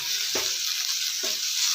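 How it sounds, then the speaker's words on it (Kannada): A spoon stirs a fresh coconut barfi mixture with milk in hot ghee, giving a steady bright sizzle with two soft scraping strokes, close and alone. "ಇವಾಗ ಚೆನ್ನಾಗಿ ಮಿಕ್ಸ್ ಮಾಡ್ಕೊಳ್ಳೋಣ."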